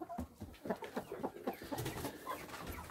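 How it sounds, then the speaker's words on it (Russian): A white rooster calling nearby among clucking chickens, a busy run of short throaty bird sounds with no talking. "Вот белый петух."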